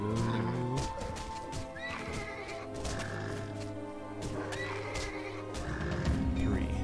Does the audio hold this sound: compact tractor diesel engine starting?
no